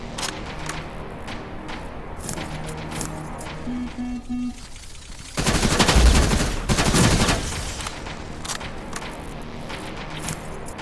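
Gunfire aimed at a spider scout robot in the Terminator Resistance video game, a loud burst of shots with a heavier blast near the middle, standing out over a steady background of game ambience.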